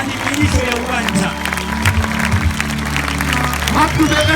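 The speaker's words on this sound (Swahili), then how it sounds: "Can you clap for Lord?" A church congregation at an outdoor open-field crusade in Nakuru claps along loudly and continuously, dense applause close by with a voice speaking over it.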